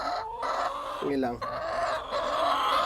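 A backyard hen about to lay clucks and squawks nearby in drawn-out, rising calls, with a brief spoken phrase and other fowl in the background.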